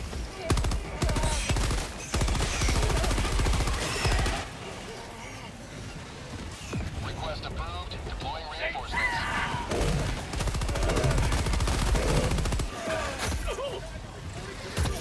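Enemy heavy machine guns firing from across the map in a Helldivers 2 mission at the hardest difficulty, sustained rattling bursts that run almost the whole time, mixed with other battle noise and players talking over it.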